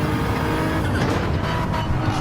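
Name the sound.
race car engine revving and downshifting at Catalunya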